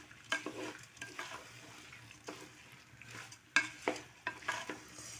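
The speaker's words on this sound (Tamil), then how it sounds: "அரிசியை சேர்த்து விட்டுட்டு மறுபடியும் இந்த மாதிரி நல்லா கலந்து விட்டுக்கோங்க" Rice and lentils being stirred in a cooking pot, a series of scraping, sizzling strokes at an uneven rhythm, close and fairly quiet, with no talking.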